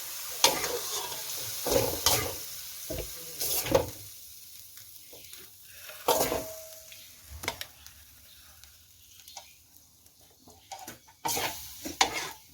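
Squid and minced pork stir-fried with holy basil in a wok, with intermittent stirring scrapes and a light sizzle; the spatula strokes come in irregular bursts, close and moderately loud.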